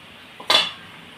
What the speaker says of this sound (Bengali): এর মধ্যে এখন আমি চিংড়ি মাছটা দিয়ে দেবো।